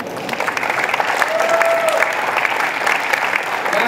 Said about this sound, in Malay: kita berikan tepukan